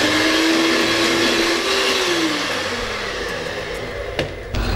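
A blender whirs loudly, its motor whine holding steady and then dropping in pitch as it slows, ending with a knock and a brief restart.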